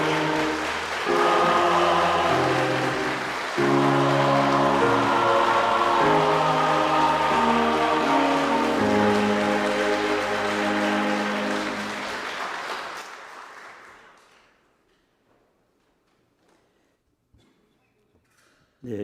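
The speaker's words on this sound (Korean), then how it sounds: "여러분 박수로 환영해 주시기 바랍니다" A church congregation applauds the newly installed elders at an installation service, a dense, steady wash of clapping that runs for about thirteen seconds over a sustained musical tone, then fades away to near silence.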